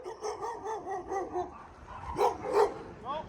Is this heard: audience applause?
no